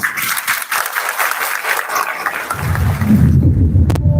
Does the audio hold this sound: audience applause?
yes